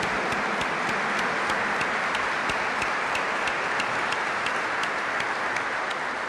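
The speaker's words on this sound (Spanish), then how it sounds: "Le brindamos también un fuerte aplauso a la gente" A congregation applauds inside the Basilica of Itatí during a Catholic Mass, dense reverberant clapping that stays steady and fairly loud throughout, with occasional sharper individual claps standing out.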